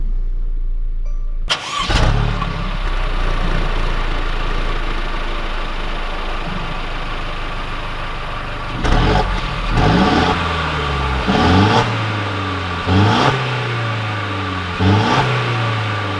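A Mercedes C300 engine starts with a sharp catch, settles into a smooth idle, then revs up repeatedly in several rising bursts, loud and close with no talking.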